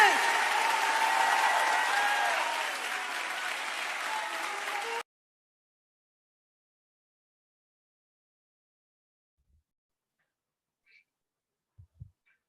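A church congregation claps during a worship service, loud steady applause for about five seconds that stops dead, followed by near silence with a few faint knocks.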